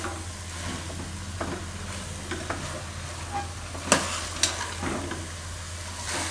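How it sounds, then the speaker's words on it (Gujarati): Moong dal and bottle gourd are stirred through masala in a hot pan, with a close, continuous sizzle and soft scraping of the spoon, plus a couple of sharper clinks against the pan. "થોડીક વાર આ રીતે મસાલામાં દાળ ને દૂધી બેયને ફેરવી લેવાની 1 મિનિટ માટે"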